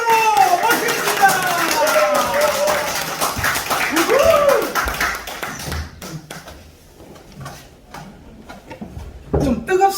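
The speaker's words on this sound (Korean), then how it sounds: "강성률 교수님을 박수로 환호로 모시겠습니다" An audience claps to welcome Professor Kang Seong-ryul on stage, a short burst of applause rising over a voice and fading into scattered taps, with people talking throughout.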